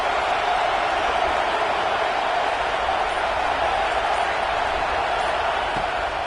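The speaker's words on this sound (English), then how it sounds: "Decibels rising as the crowd gets behind this defense on 3rd down." Steady, loud roar of a packed football stadium crowd at a Notre Dame game backing the defense on third down, an unbroken wash of noise with no pauses.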